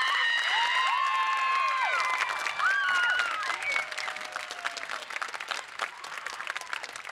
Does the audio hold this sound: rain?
no